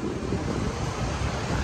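Strong wind buffets the microphone outdoors, a steady, loud, rumbling roar throughout with no talking.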